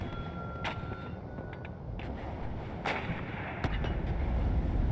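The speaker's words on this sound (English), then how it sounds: "Taking a lot of HGM fire." Incoming artillery fire in the video game WARNO: several sharp, heavy blasts land at uneven intervals over a constant low rumble of battle noise, with no voices.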